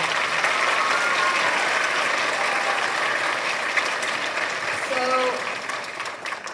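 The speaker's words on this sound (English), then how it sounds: "can we have our soloists stand for a minute? Let's give those people a round of applause" Audience at a junior high spring orchestra concert giving sustained applause for student soloists, a loud, even roar of clapping that fades slightly at the end, with faint voices underneath.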